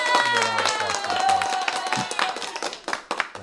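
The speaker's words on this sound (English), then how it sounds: "the Fez gets a round of applause" A small group claps briefly during a livestreamed Axis & Allies board-game session, with distinct close hand claps under ongoing talk and a few sharper claps near the end.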